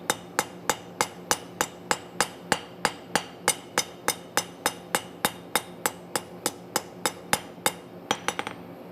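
A hammer strikes along the very edge of hot metal being forged, as if beveling a knife, in about two dozen evenly spaced, ringing metallic blows, close and loud, ending in a quick flurry of lighter taps.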